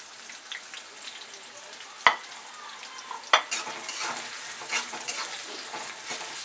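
Finely chopped onion fries in a pan for a Maharashtrian potato dish, a soft low sizzle with sharp scraping stirs at intervals, close and fairly quiet, no talking.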